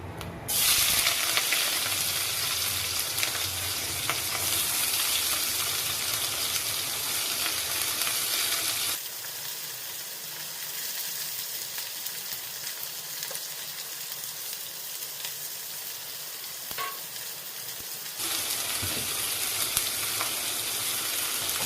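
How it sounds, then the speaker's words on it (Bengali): Two or three large sliced onions fry in hot oil with a loud, continuous crackling sizzle that dips slightly in the middle stretch and then swells again, with no talking. "তেলটা গরম হয়ে গেছে এখন আমি কেটে রাখা বড় বড় সাইজের দুটো তিনটে পেঁয়াজ আমি ভেজে নেবো"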